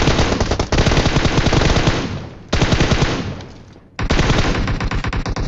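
Automatic gunfire in the PUBG battle royale game, loud rapid bursts of machine-gun fire in three long strings separated by short pauses.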